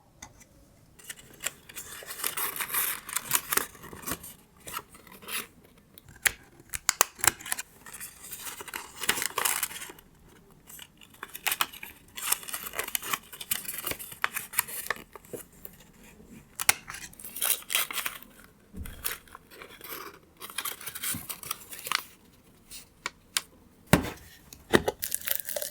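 Scissors cut slits into the sides of a paper favor box. Many quick crisp snips and paper rustles come in close, uneven bursts with short pauses between them, and no voice is heard.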